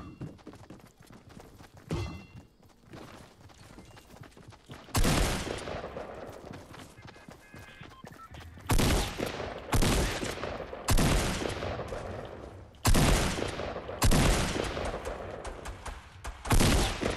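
Gunfire in Fortnite, repeated loud bursts of shots at irregular intervals, each sharp onset decaying, over quieter game ambience and footsteps.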